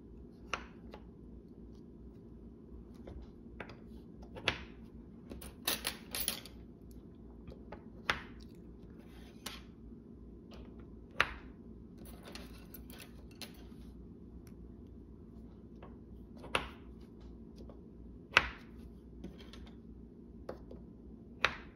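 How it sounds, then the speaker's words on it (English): Rods being pushed into the holes of a template for an FCC lattice model give quiet, scattered clicks and light taps at an irregular, unhurried pace over a faint background. "I'm inserting the rods in the holes following the template"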